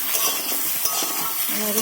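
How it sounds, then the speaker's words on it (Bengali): Bottle gourd peel and cabbage fry in a pan while being stirred, a loud close sizzle overlaid with quick scraping and shuffling strokes of the spoon, with no talking. "এরকমভাবে আমার ভাজা ভাজা হয়ে এসছে"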